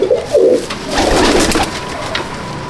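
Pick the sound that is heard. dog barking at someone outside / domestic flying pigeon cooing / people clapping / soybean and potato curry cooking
domestic flying pigeon cooing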